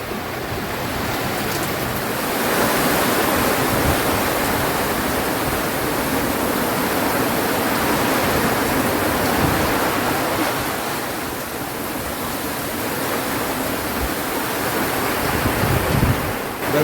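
A squall batters a sailboat at sea in the Pacific, with a loud, steady roar of wind and rushing waves that swells and eases slightly over time, and no voices.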